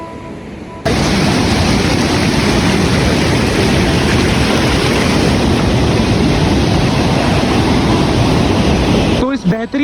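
River water rushing in Old Manali, a loud, dense, steady roar close by that starts abruptly and holds unbroken for several seconds before cutting off.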